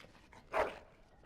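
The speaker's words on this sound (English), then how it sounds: "Bloody dog." Dog in the fantasy game Dragon Age: Origins gives a single short, sharp bark, moderately close, set against a quiet background.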